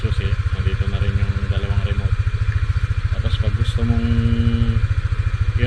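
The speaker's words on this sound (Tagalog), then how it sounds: "Ayan, maandar na yung motor mo nang walang susi." A Yamaha Aerox 155 scooter, fitted with a keyless start and anti-theft alarm, idles close by with a steady, pulsing putter while someone talks over it.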